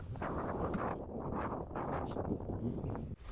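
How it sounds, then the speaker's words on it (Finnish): Strong wind buffeting the microphone at a lake campsite in the Finnmark highlands, a loud continuous low rumble and roar that swells and eases without pause. "Tässä on suht koht kova tuuli."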